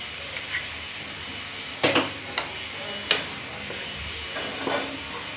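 An egg dropped into boiled bottle gourd in a pan gives a soft, steady sizzle and hiss, with a few sharp crackles and spatters standing out at moderate volume.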